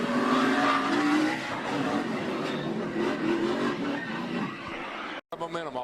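A NASCAR race car roars and squeals its tires through a spin, then hits the wall with a brief crunch. A commentator's voice runs over the loud engine noise, and a short break follows the impact.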